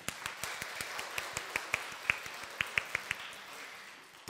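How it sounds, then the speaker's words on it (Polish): A preschool audience at a chamber concert clapping in a steady, fairly even rhythm, roughly five claps per second, some sharper than others, fading out just before the end. "poproszę o brawa"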